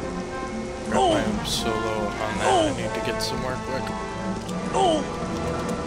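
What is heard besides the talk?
acid rain falling in video game Star Wars Jedi Academy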